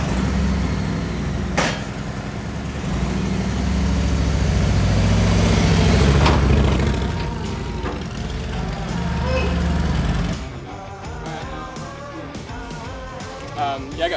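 A truck engine idles and pulls forward with a trailer, a steady low rumble that swells and then drops away, with a few clanks and people talking nearby.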